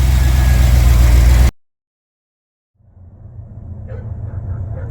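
A repaired car engine idles steadily, stops abruptly, then restarts and settles into a smooth, even idle up close, with no talking over it.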